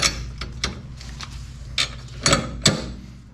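Ratchet clicks and metallic rattles from a socket wrench snugging Wilwood disc brake bracket bolts on a Corvair hub, a handful of short sharp bursts spaced irregularly, close and fairly loud with no talk.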